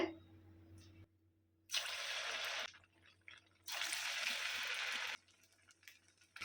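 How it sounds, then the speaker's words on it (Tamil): Rice vada made from leftover cooked rice frying in hot oil over a medium flame, giving two loud bursts of dense sizzling and crackling with quieter gaps of faint bubbling between. "மீடியம் ஃப்ளேம்லேயே வச்சு ஃப்ரை பண்ணிக்கலாம்"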